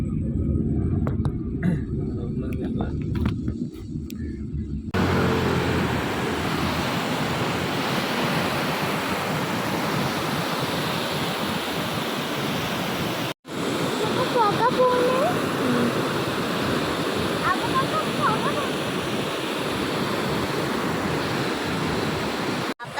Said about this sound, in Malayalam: നമ്മൾ പള്ളിക്കടവ് പുഴയിലെത്തി